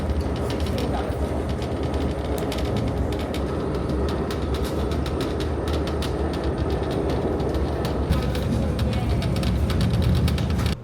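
An Amtrak overnight passenger train runs along the rails, a steady loud rumble with rhythmic clicking and rattling from the car, continuous and close.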